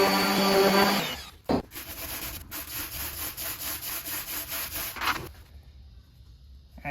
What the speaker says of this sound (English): let's sand this back a little and see what we're working with for highs and lows